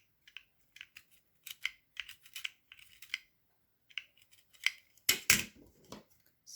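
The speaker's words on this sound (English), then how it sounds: "Cutting off the excess so it's not bulky." Small scissors trimming excess fabric from a dollhouse couch, a string of crisp, close snips in uneven clusters with short pauses, ending in a louder, fuller cut, and no talking.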